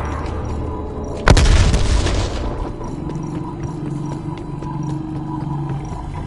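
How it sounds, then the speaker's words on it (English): A frag grenade in Cold War Zombies goes off in one loud, sharp boom that rolls away over a second or so, followed by quieter game ambience and faint clatter. "Throwing frag."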